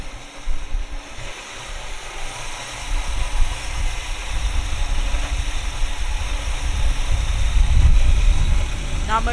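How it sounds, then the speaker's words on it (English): A 1973 Plymouth Satellite Sebring's 318 engine idles in a steady low rumble that swells a little louder toward the end, with a faint hiss overlaying it. "Not much I can say other than a pretty good running 318."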